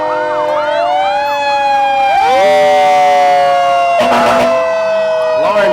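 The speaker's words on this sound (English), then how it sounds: "how about that Dublin fire engine coming through right behind it?" A Dublin fire engine's siren wails loudly and nearby as the truck passes through a Christmas parade in Dexter, its rising and falling tones sustained throughout, with sharp horn blasts toward the end and faint crowd voices underneath.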